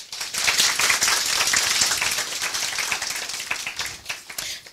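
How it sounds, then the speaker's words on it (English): An audience at a healthcare community gathering gives a round of applause, close, loud crisp clapping that swells quickly and then gradually loosens into scattered claps. "So give you all a round of applause."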